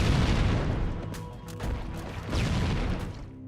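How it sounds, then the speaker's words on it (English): A loud explosion in the Halo: Combat Evolved video game, a dense broadband blast with rumbling low end and crackling debris that roll on for several seconds at close range. "that explosion, I mean"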